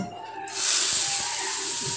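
Nigella seeds drop into hot oil for red lentil (masoor) dal with pumpkin stems, and a loud sustained hiss and sizzle suddenly bursts up and continues steadily, close up, with no talking.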